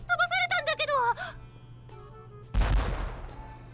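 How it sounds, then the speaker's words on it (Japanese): An explosion in the video game The Eden of Grisaia, a sudden loud boom that rumbles and fades over about a second, following a high, wavering vocal cry. "しかも爆発して数人吹っ飛ばされたんだけど"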